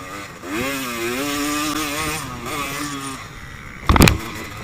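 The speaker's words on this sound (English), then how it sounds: "Boy, that bike is loud without a silencer on it." A dirt bike racing a hare scramble course with its silencer gone, its unmuffled engine revving loud and raspy, pitch rising and falling through the whoops, with a sharp burst near the end.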